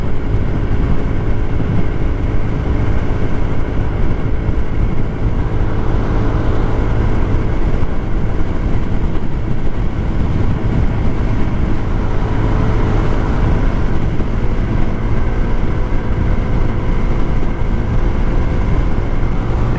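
An icebear Hawkeye 150cc four-stroke scooter engine runs continuously at speed, a loud steady drone with rushing wind noise throughout and no pauses.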